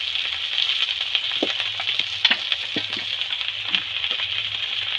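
Spices sizzle steadily in hot oil in a pan, a close, bright hiss with scattered crackles and light scraping of a spoon stirring through.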